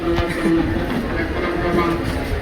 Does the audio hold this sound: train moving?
yes